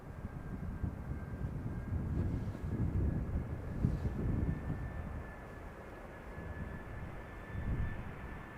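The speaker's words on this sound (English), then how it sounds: "now flying base, is the Transavia A321neo arriving from Barcelona" A Transavia Airbus A321neo arriving at Amsterdam Schiphol on its base turn from Barcelona, heard as a distant, steady jet engine roar that swells and fades gently, with some wind buffeting on the microphone.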